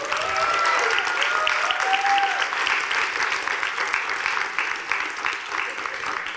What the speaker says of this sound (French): Vous pouvez l'applaudir s'il vous plaît.